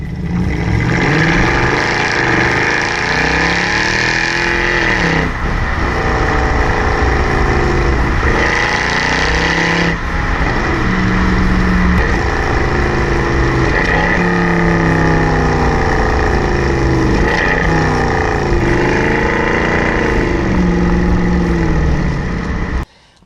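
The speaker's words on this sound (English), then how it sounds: "the engine is a masterpiece. It sounds so nice." A loud, deep 6.2-liter V8 engine of a Mercedes-Benz C63 AMG rumbles and revs repeatedly, its pitch rising and falling with each burst of throttle throughout.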